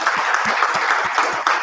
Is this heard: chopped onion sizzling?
no